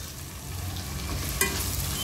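Leftover fried rice being stirred in a pan, a soft continuous sizzle with one brief spatula clink, close but fairly quiet, no talking.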